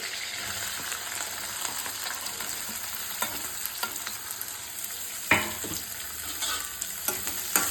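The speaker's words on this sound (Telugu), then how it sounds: "పచ్చిమిరపకాయలు వేసుకోవాలి ఫస్ట్, తర్వాత ఉల్లిగడ్డలు వేసుకోవాలండి" Green chillies and onions frying in oil with mustard and cumin seeds for an onion potato fry, giving a continuous close crackling sizzle with occasional stirring clicks, no talking.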